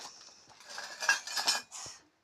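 A mug and dishes are handled close by, giving a quick series of bright clinks and clatters that swell in the middle and stop abruptly, with no talk over them.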